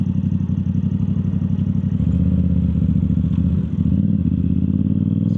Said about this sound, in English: The bike looks good, rides nice, sounds good.